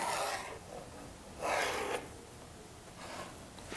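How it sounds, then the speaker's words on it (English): Soft scratchy rasping strokes repeat every second or so, close and quiet, as a pencil draws a line down wooden runners. "run a pencil line all the way down"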